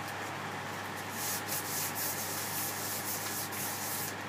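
Hand sanding with a Sandi Hands sanding pad produces a steady, close, continuous rubbing scratch that swells slightly in the middle and carries on without pause or voices.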